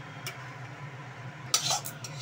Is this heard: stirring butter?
yes